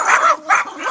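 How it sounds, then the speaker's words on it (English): A dog gives two quick, loud barks close by, with a short yelping edge to each, sounding alone with no talk over them. "Oh, what a fierce dog, fierce, brave for the United States of America."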